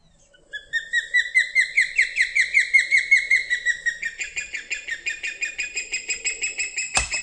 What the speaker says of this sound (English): Osprey.